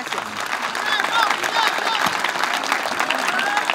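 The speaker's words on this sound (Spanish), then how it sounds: "Fuerte aplauso para la señora." A crowd applauds a woman at a community turrón sale held in Samanco to raise money for a child with leukemia, with steady, fairly loud clapping throughout and voices talking and calling out over it.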